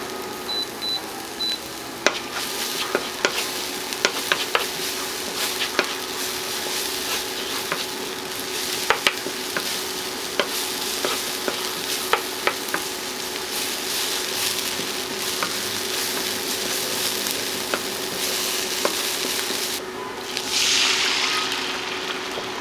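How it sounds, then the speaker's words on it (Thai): Pounded aromatics frying in a little oil over medium heat for a savory Thai crepe filling, a steady close sizzle that runs throughout with scattered small pops and clicks of stirring, no voices. "เราจะเจียวให้ เครื่องหอมเลยนะคะ เครื่องที่เราตำไว้"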